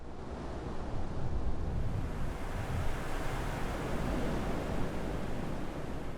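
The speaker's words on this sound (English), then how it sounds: "The classic ocean sounds of waves crashing on the rock with the faint spacey sounds playing around in the background" The PlayStation 2 console startup sound: ocean waves wash and surge in a continuous roar, with a soft hiss of wind and a faint airy tone in the background.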